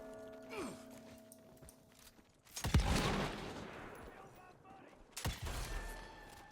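Gunfire in the video game Evil West: two loud bursts of shots, the first heavy and lingering, the second a sharp blast, over quieter game ambience.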